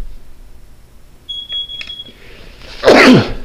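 A carbon monoxide detector by a thermostat is pressed for a test during a home quality-control inspection, giving a thin steady beep of about a second, followed by a louder, harsher burst near the end.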